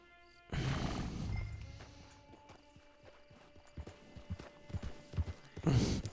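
Hooves of a horse in the game Red Dead Online clip-clop at a quick gallop, a steady run of close thuds that thickens and swells louder near the end.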